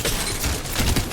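Rapid bursts of gunfire in Apex Legends, a brief dense rattle of shots lasting just over a second during competitive play.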